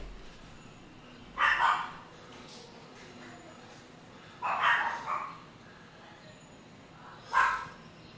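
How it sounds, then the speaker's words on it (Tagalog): Dogs bark in three separate short bursts spaced a few seconds apart, moderately distant, over a low steady background hum. "Pati mga aso ko nagsa-celebrate."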